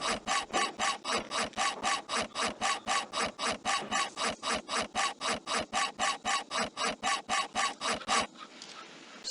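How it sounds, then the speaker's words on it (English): Hacksaw cutting out wings in the 1998 PC game Tonka Workshop: about thirty fast, even back-and-forth rasping strokes, loud and close, then stopping abruptly near the end. "Use your hacksaw to cut out the wings."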